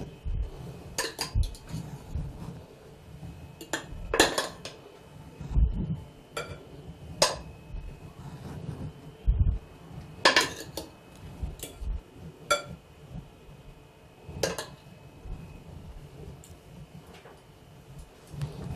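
Plates and cutlery clink sharply while fish couscous is plated, scattered individual taps and knocks spaced irregularly over a quiet room background, with no voices.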